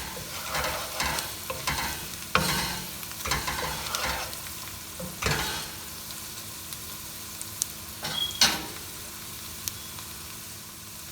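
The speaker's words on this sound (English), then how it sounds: "sauteing for probably 1 minute or so, and you can see" Rice sautéing in a pan for Indian-style dirty rice, a continuous sizzle with repeated scraping stirs and sharper clinks of the spoon, close and alone with no talk.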